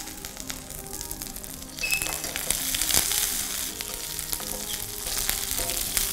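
Mustard seeds and curry leaves hit hot oil, and a loud, crackling sizzle jumps up partway through, then spits and pops steadily close by with no talking over it.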